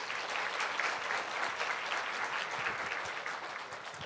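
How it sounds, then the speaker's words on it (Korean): Church congregation at a Sunday worship service gives sustained, even applause for the youth performers, a dense wash of clapping filling the room with no talking over it. "우리 렘넌트들에게 박수 한번 쳐줍시다"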